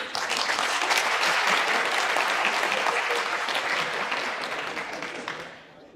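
A large audience claps steadily at a university talk, a dense sustained wash of applause that holds for several seconds and then tapers off toward the end.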